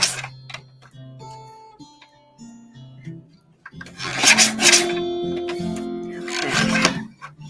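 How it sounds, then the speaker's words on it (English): Scissors trim the edge of a watercolor paper die-cut circle, making soft rasping snips in short bursts, quiet at first and then louder and closer in two longer scraping passes. "we're going to gently trim off the edge of this circle"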